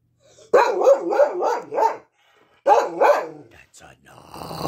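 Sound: dog barking

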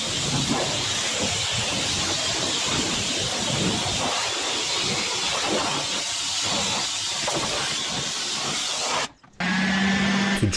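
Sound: air blower drying car wheels

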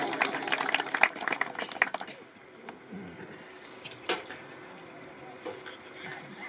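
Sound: audience applause at a Punjabi poetry gathering

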